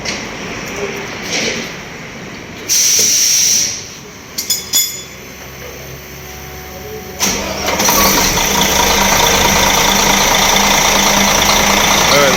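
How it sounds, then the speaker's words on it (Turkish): A Mercedes Travego 15 SHD bus undergoing repair in an industrial workshop area cranks and fires up, then settles into a loud, steady diesel idle, with voices and background noise before it starts. "Aracı çalıştırdı."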